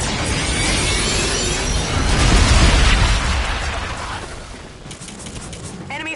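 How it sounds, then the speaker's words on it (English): Artillery bombardment in a video game: continuous loud rumbling blasts and crackling impacts, swelling to heavy booms midway then easing, a dense barrage close by. "Bombardment incoming."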